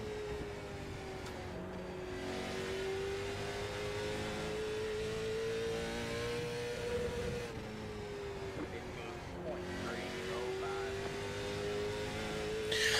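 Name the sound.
late model stock car engine racing at South Boston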